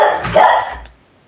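A dog in a video game lets out one loud, close bark with a rough, growly edge that lasts under a second before cutting off into silence.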